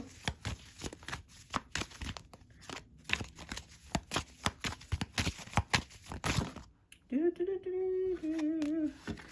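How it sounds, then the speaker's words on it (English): Tarot cards are shuffled in repeated quick riffles and taps, close and crisp, followed by a brief stretch of a voice speaking. "Let me shuffle once again."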